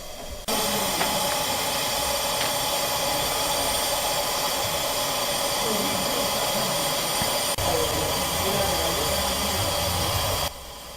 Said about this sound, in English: Here we got to watch as number 3 was steamed down